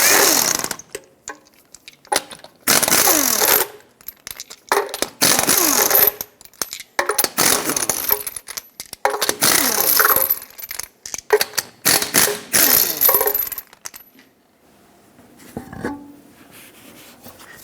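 Ratchet with a 21mm socket removing the six lug nuts from the wheel of a 1996-2002 Toyota 4Runner, loud repeated bursts of rapid clicking separated by short pauses, close by with no talk.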